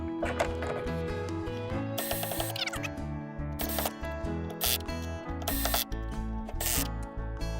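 A clutch-set power driver tightens the Power Pole Micro anchor mount hardware on a Hobie Pro Angler kayak, giving loud, close, repeated mechanical ratcheting bursts with brief pauses between them.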